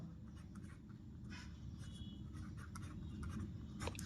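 Maths being written on a board: a faint, close, continuous scratchy stroking with short light taps, over a soft background hum and no speech.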